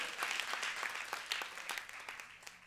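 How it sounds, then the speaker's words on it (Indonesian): A church congregation bursts into lively applause during a sermon, with crisp individual claps standing out from a dense crowd, starting strong and gradually easing off toward the end. "Boleh saya dengar tepuk tangan yang paling meriah?"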